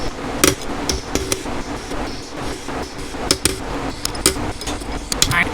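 Repeated sharp hammer blows ring against a metal part of a Sea-Doo XP jet ski at an irregular pace, loud and close, with brief pauses between strikes.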